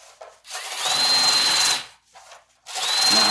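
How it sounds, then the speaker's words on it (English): A power drill whirs in two bursts as it knocks excess copper off a handmade annealed copper rose, close and loud with a short pause between runs. "I just take a drill"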